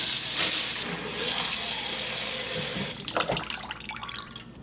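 Cold water runs from a kitchen tap into a bowl to soak about 2 ounces of hard, translucent glass noodles, a steady splashing stream that thins into lighter trickles and drips toward the end.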